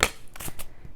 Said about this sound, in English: To begin, we'll do some shuffling, of course, to begin for Saturday.